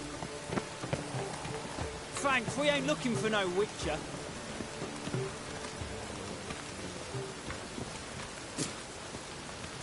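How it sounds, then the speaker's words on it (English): Steady rain pours in the open world of the video game The Witcher 3: Wild Hunt, a constant patter running throughout while game characters speak over it. "The rain will cleanse the city's streets of filth."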